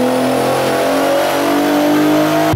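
An Infiniti Q50 fitted with an SCS custom catback exhaust revs hard, a loud continuous rising engine roar that rings out close by with no talking, then cuts off abruptly at the end.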